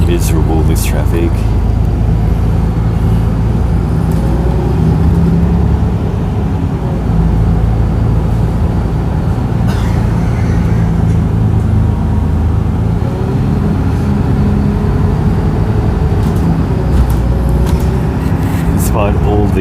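Steady road traffic and engine rumble heard from inside a moving Route 930X bus on a Perth highway, a constant loud drone with passing vehicle swells and air-conditioning hiss throughout.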